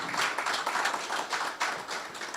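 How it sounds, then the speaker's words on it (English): A room full of listeners claps for a panelist at a discussion on nuclear generation in Africa, the dense round rising and falling in small swells for a couple of seconds with no voices over it. "Please, a round of applause for her."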